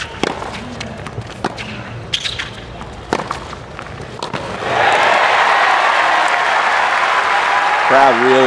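Scattered thuds and a voice give way midway to a swell of loud, sustained applause from the tennis crowd at the 2013 US Open match between Roger Federer and Tommy Robredo, with a commentator speaking briefly at the end.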